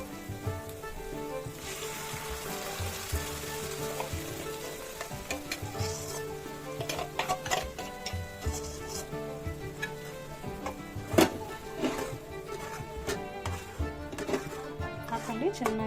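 Ground spice paste tipped into onions frying in oil for tomato chutney, a steady close sizzle with stirring scrapes and clinks of a spoon against the pan throughout, voices talking faintly over the cooking.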